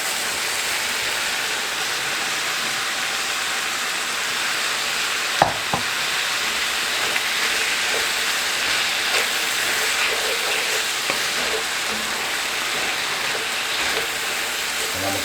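Vegetables for homemade Manwich sloppy joes sizzle and fry steadily in a pan, a continuous crackling hiss with a few brief scrape or clink sounds from stirring partway through.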